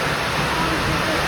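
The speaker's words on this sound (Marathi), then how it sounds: "वळीव पाऊस आहे बहुतेक." Heavy pre-monsoon rain falling outdoors in rural Maharashtra, a dense, steady wash of hiss and patter that fills the whole moment without a break.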